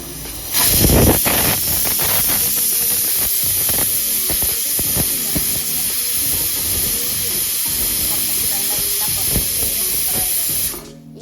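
A pressure cooker on a gas stove with green gram cooking inside gives a loud, steady hiss of escaping steam that runs unbroken for about ten seconds, up close, before it suddenly cuts off.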